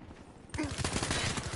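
Brief rapid gunfire from Call of Duty: Black Ops III multiplayer gameplay, a quick burst of shots close up, mixed with a voice talking.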